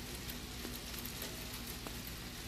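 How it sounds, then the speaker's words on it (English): Summer hail falling in Yellowstone, a loud, steady, dense hiss of pelting ice with scattered sharper ticks throughout, no voices. "Yes, it is hailing on the first day of summer."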